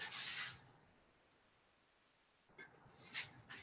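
DeoxIT contact cleaner lubricant sprayed on a 1970 Pioneer TX-700 tuner: a short hissing burst of spray at the start, then quiet, then two or three more brief close spray bursts near the end.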